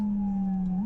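Howler low-frequency siren on an EMS rig, a loud, deep steady tone with a higher partial, held evenly before bending upward at the end; brief and alone.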